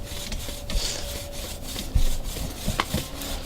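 Steady rasping scrapes of a bamboo fire saw working through bamboo, with a few sharper knocks and creaks between strokes, close by and unhurried.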